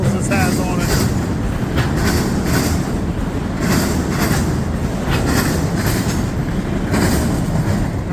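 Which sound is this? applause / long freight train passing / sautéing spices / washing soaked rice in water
long freight train passing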